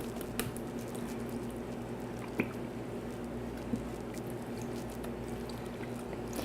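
Zesty Italian dressing is poured over food in a large bowl, a soft, steady liquid glug and squish with a couple of faint clicks, heard close up and quiet, with no talking.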